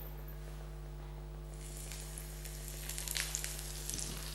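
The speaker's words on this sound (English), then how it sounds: "we just place it in this hot oil to fry" Steady crackling sizzle of crumb-coated fish frying in hot oil, growing busier and louder halfway through, close by with a constant low hum underneath.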